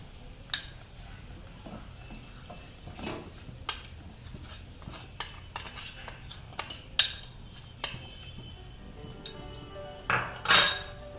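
A metal spoon scrapes and clinks against a pan while stirring adadiya pak mixture over a medium flame, giving irregular sharp metallic taps and clatters over a quiet background.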